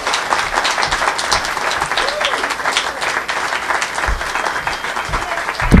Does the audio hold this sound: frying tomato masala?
no